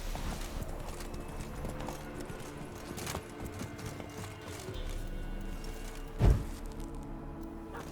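Roach the horse gallops in The Witcher 3 video game, a fast continuous drumming of hooves over a rumbling background, with one heavier thud near the end.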